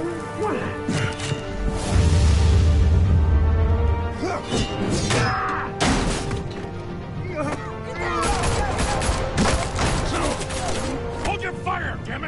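Video game gunfire cracks and crashes in bursts amid impacts and clattering mechanisms, loud and close, with voices talking over the chaotic action.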